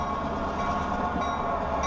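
The Lehigh Gorge Scenic Railway train rolls into a station as a continuous, moderately loud rumble of wheels and cars, steady and without breaks, with no voices.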